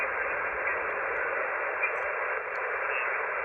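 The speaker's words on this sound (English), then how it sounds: "Hear the interference?" Steady hissing interference fills a Yaesu FTX-1 ham radio tuned to the 80-meter band, a constant band-limited noise with no voices over it.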